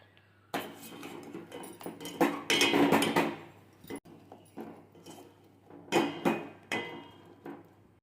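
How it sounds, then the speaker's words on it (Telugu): Gavvalu, small shell-shaped sweets, being stirred into hot jaggery syrup in a pan, with bursts of scraping and clinking of the spoon against metal, close and moderately loud, in several bouts separated by quieter pauses. "బెల్లం పాకంలో గవ్వలు వేసుకోవాలి"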